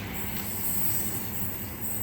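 A Sydney suburban train passes through Hurstville station. The rolling rumble is loud and continuous, with a high wheel squeal running through it over the whole short stretch.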